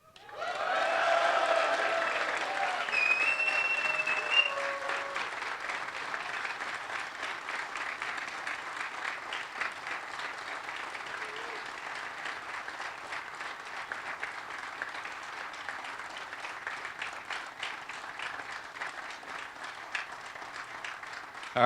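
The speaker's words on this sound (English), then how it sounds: "stand up and give them a round of applause" Graduating audience at a US Army War College distance education ceremony stands and applauds, a broad sustained wash of clapping that swells at the start then holds steady for about twenty seconds, with faint voices briefly heard early on.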